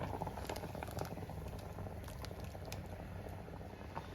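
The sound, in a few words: Kerala mango pulissery curry boiling in pan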